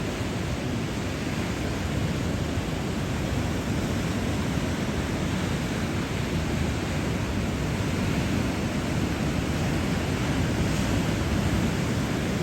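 Steady broadband rush of ocean waves and wind around a small boat on open water, continuous and loud throughout with no distinct breaks and no talk.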